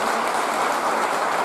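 Loud applause from an audience at a political gathering, a dense, steady wash of clapping held at the same level for a brief moment, with no voices over it.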